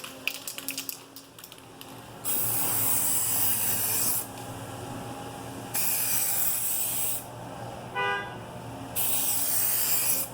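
Bursts of hissing spray as a clear coating is sprayed onto a car headlight, in several long passes separated by short pauses, close and steady, with a brief whine partway through.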